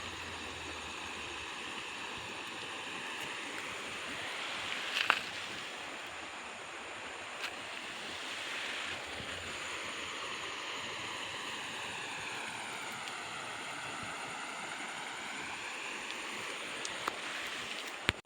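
A rain-swollen river in the Konkan region rushes past with a steady, even roar of flowing water that holds constant throughout, with no voices over it.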